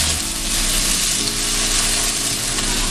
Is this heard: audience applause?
no